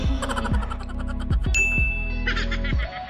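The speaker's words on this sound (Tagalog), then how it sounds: "tap the notification bell down below" A bright notification bell ding rings out once, clear and sustained, over a looping upbeat musical jingle with regular rhythmic hits; no one speaks.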